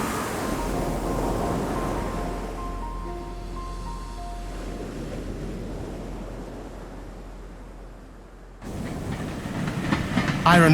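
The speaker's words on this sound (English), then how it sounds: "Iron Ore Train, Mauritania." Iron ore freight train in Mauritania rumbling and clattering along the rails, a steady broad roar with faint tonal squeals, continuous for most of the stretch before a sudden change in the noise near the end.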